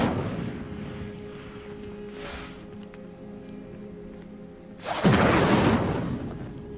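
The Incendio fire spell cast in the video game Hogwarts Legacy, a sudden loud whooshing burst of flame after a quieter stretch of game ambience.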